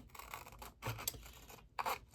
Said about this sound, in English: maybe I do need to actually just trace the ink thing and cut it out.